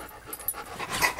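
A dog pants in short, soft, breathy bursts, faint and close, over about a second with no talking.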